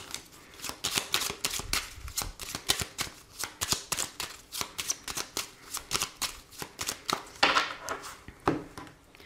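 Oracle cards being shuffled by hand, a fast run of crisp riffling slaps and flutters repeating in quick bursts, close and steady throughout.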